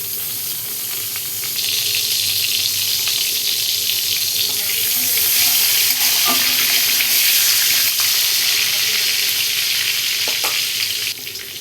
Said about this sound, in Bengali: এবার একটু পাঁচফোড়ন আর একটা তেজপাতা দিয়ে দেবো।